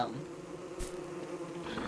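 Steady droning buzz of bees in the video game Don't Starve Together, a continuous swarm hum at moderate level with a brief louder blip midway and no talking.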